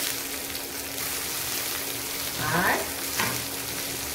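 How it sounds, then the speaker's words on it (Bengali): Tomatoes go into a hot pan and fry with a dense, even crackling sizzle, swelling briefly as they land and are moved about; a single spoken word sits over it. "এতে দিয়ে দিচ্ছি টমেটো"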